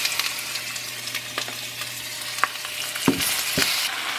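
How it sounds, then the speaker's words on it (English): Seasoned beef pieces for caldo de res sear in olive oil, making a steady close hiss with scattered pops and a few clunks as pieces are set down in the pan, with no voices. "So I'm gonna go ahead and put these pieces inside and I'm gonna put the seasoned side down"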